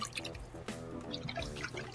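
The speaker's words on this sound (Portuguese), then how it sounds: "Você viu que o som da água também tá diferente" A real recording of water being stirred in a bucket, used in place of the stock Minecraft water sound, gives soft sloshing, dripping and trickling close up, with faint voices under it.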